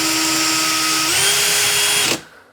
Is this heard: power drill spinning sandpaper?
yes